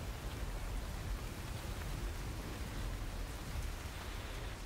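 Steady, even rain falling, a soft continuous hiss with no voices over it.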